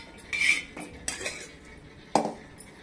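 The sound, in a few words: transferring roasted curry and bay leaves into a pot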